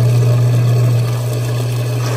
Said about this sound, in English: We're trying to run the disposal again here.